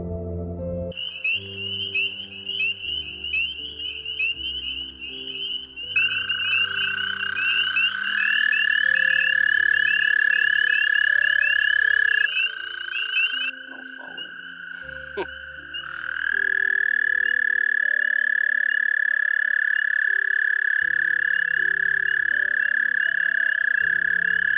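American toads call in long, steady musical trills during the spring breeding season at a snowmelt vernal pool, several overlapping males sustaining loud, close drones with brief breaks between them.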